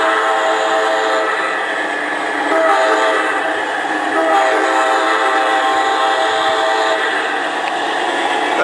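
A White Pass railroad train approaches with a steady, loud rumble and squeal of wheels on track, holding a continuous droning roar throughout with no voices over it.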